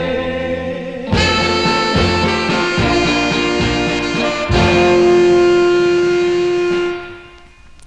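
A 1957 vocal group record on the Felsted label plays, with harmonized voices over a backing band, ending on a long held chord that fades away.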